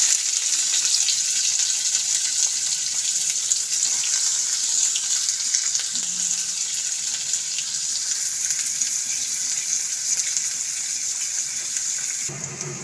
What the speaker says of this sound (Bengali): তেলটা গরম হয়ে গেছে, এবার পেঁয়াজটা দিয়ে দেবো।